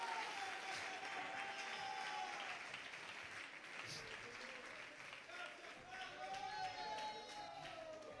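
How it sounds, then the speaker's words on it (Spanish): A church congregation claps loudly in praise during an evangelistic service, sustained applause with scattered cheers and voices mixed in over several seconds. "le sacan un fuerte aplauso de alabanza al varón de dolores"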